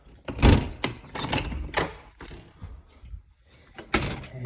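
A house's back door bangs and rattles several times at irregular intervals, close by, with scuffs and handling noises between the knocks.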